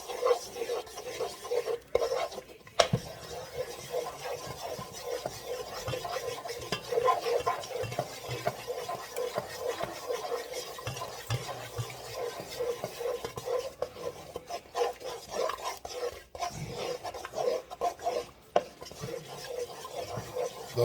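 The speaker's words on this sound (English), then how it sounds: "So right now, we're just stirring it." A Cajun roux of flour dissolved in hot oil, at a blonde stage, is stirred in a pot, giving a soft, steady scraping and swishing that runs quietly and continuously with no talk.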